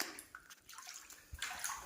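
Water sloshes and splashes near a temple in a short, fairly quiet burst, with uneven swishing that swells toward the end and no voices.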